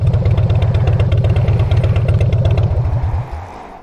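A motorcycle engine idles up close with a fast, even, throbbing pulse and some mechanical clatter, then cuts off and dies away near the end.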